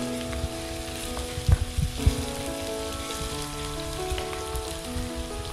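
Garlic paste and ginger paste being stirred into a sizzling pepper chicken curry masala, a steady close crackle with a few louder scraping knocks and no talk.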